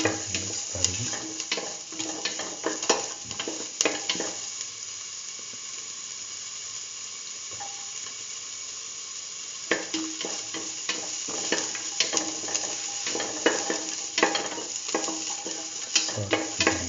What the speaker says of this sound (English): Now put in the shallots, salt, and mix thoroughly.